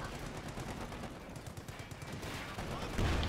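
Artillery barrage and machine gun fire in the World War II strategy game Company of Heroes 2, a dense, continuous clatter of rapid gunshots with rumbling impacts throughout and a heavier blast near the end.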